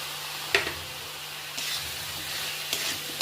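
Salt, turmeric, Kashmiri red chilli powder and spice paste fry in a pan, a steady sizzle with a few sharp bursts and scrapes as the spices go in and are stirred.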